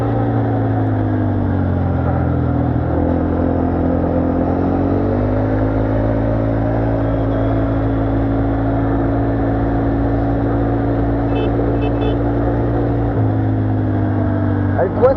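A 200cc quad's engine droning steadily while riding, a loud continuous motor hum with small pitch shifts as the speed changes, with a rider talking over it.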